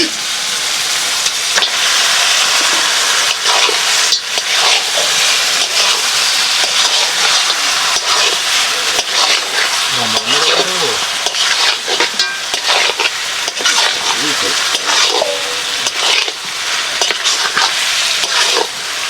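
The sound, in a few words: country chicken meat frying and being stirred in cooked spices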